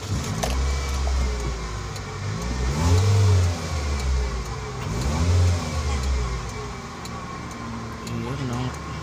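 Car engine starting and revving several times at close range; the engine is misfiring, with a socket that turned out to be grounded. Loud swells of revving rise and fall over a running idle.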